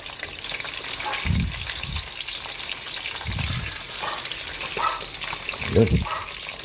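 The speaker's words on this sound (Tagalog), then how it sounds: "Magpiprito na po tayo ng ating fried chicken natin." Fried chicken sizzling in hot oil, a steady crackling hiss throughout with several soft low thumps of pieces being moved or added in the pan.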